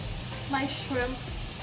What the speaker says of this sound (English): so I'm adding my shrimp in, and I'm just cooking it. I put a little butter in as well